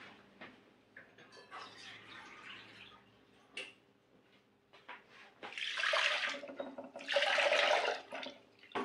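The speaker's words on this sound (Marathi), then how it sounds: "दीड ग्लास मी पाणी घातलेलं आहे कुकरमध्ये" Water is poured into a pressure cooker holding dal in a home kitchen, two clear splashing, gushing bursts near the end after quieter clinks and handling sounds, close and fairly loud.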